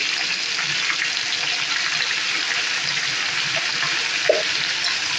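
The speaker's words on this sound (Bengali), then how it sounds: "এর মধ্যে আমি আমের টুকরোগুলো দিয়ে দেব।" Mango pieces frying in a pan for pickle, a constant even sizzle and hiss with only a faint tap near the end, close and steady, no voices.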